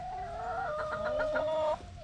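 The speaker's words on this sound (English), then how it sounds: "let's check out the chickens before we go" A hen clucks in a quick run of soft, repeated notes close by, over a quiet background hum, then stops.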